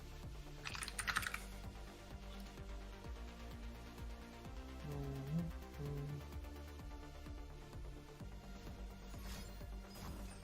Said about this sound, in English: So Hesh, if you're typing, you are too loud, by the way, Hesh